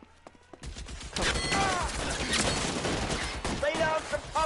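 Rapid bursts of gunfire in the video game L.A. Noire, dense and loud after a quiet start, with a voice talking through the shooting.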